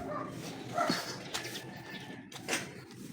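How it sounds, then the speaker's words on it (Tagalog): A dog barks a couple of times amid outdoor street ambience, with a whimpering yip between the barks at moderate distance. "Aso lang ang narinig ko. Tumatahol."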